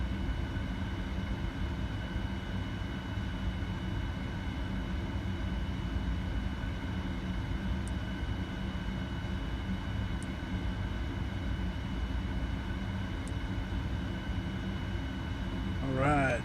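A simulated Boeing 787 takes off from Denver in the Prepar3D flight simulator, producing a constant, even engine drone that fills the whole stretch with little change, with a few faint clicks near the end.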